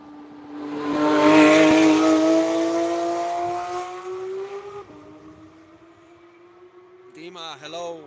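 A car races past on the Nurburgring track, its engine note climbing in a long sustained pull before shifting and fading, with a brief sharp squeal-like burst near the end.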